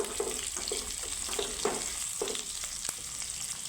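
Rui fish pieces fry in oil with panch phoron five-spice, giving a continuous close sizzle and crackle with soft irregular bubbling pops throughout.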